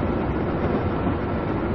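A train passes in the Railworks train simulator as a dense, steady roar of wheels and rolling stock, loud and close throughout with no pauses.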